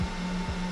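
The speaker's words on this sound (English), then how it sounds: "You can hear that fan on the amp dyno kicking in." A steady whirring hum from the cooling fan of an amplifier dyno testing a Sundown Audio Salt-8 amp, close and continuous with a brief low thump partway through and no talk.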